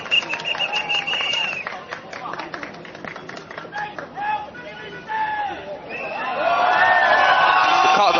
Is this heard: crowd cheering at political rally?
yes